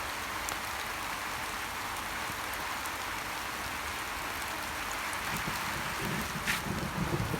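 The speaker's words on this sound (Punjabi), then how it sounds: "ਲੋ ਜੀ ਬਾਰਿਸ਼ ਲੱਥ ਪਈ ਆ" Steady rain falls outdoors on a cloudy morning, a continuous faint patter with light wind buffeting the microphone and a few heavier drops near the end.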